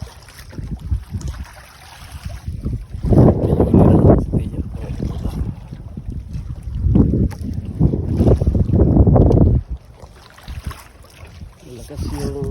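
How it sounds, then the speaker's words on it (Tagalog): Strong wind whips across a small fishing boat out on choppy sea after a typhoon, gusts roaring into the microphone in loud surges with water splashing, and faint voices now and then. "Malakas yung hangin dito sa may dumagsa kaya maalon"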